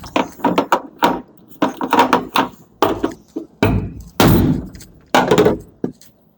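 A metal tab is hammered into shape on a 1987 Chevy G20 van: loud, sharp metallic blows come in quick uneven clusters, ringing close by with short pauses between bursts.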